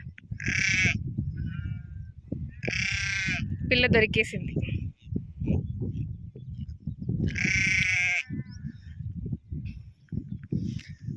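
Sheep bleat loudly three times in long, wavering calls while people talk over a steady background murmur.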